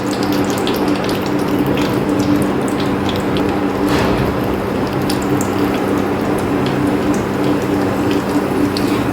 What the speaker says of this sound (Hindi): यहाँ पर ऑयल गर्म हो चुका है, अब इसे मैं फ्राई कर लूँगी इसके अंदर डाल के।